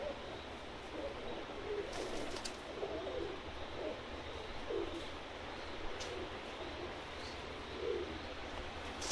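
Pakistani breeder pigeons coo softly and repeatedly at a distance, low rolling calls spread through a quiet outdoor background with a faint steady hiss.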